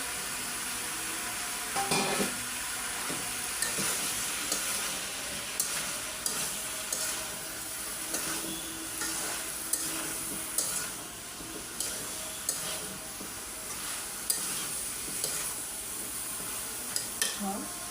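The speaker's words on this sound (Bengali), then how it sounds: "ভালো করে একটু কষায় নেব।" Sautéing vegetables—stalks, cucumber, carrot and eggplant—with shrimp in a pan, a steady sizzle under repeated scraping stirs of a utensil against the pan, with faint talk in the background.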